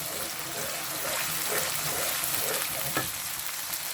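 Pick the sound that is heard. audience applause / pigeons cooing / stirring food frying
stirring food frying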